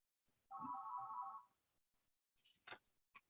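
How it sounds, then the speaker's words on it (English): A telephone ringtone chirps once as a fairly loud burst of warbling tones, followed by a few faint clicks and short knocks, with no talk. "I'll mute my mic while this phone rings."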